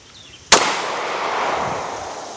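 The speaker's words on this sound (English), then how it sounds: "I'm going to shoot on that lower half." A single loud, close 9mm Glock 19 pistol shot fired outdoors into a target of books, a sharp crack followed by a long fading echo.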